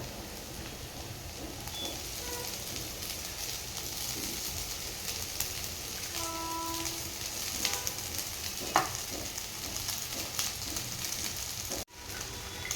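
Egg rice with salt being stir-fried in a pan: a steady close sizzle with scattered scraping and stirring clicks from a utensil, continuous throughout with no talk.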